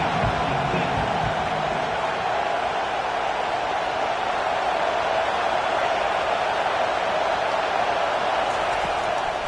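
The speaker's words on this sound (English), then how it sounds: "Decibels rising as the crowd gets behind this defense on 3rd down." A stadium crowd roars at an Arkansas football game on a third-down defensive stand, a dense, steady wash of distant voices and cheering that fills the whole stretch.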